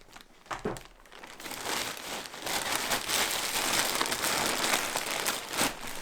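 Gift wrapping paper being crumpled and folded by hand, a steady close crinkling and rustling that grows busier and louder, with occasional sharper crackles, alone without talk.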